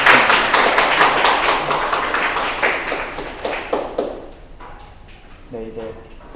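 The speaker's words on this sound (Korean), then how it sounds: "큰 박수로 맞이하겠습니다" An audience claps for judges being introduced at a university mechatronics Arduino competition: dense, close hand claps for about four seconds that thin out into scattered claps and fade to near quiet.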